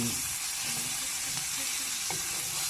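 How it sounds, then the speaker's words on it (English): Onions sizzle and fry in plenty of olive oil in a pan, a steady, close hiss with faint stirring clicks. "we just want to brown the onions a little bit, and then throw in the liver"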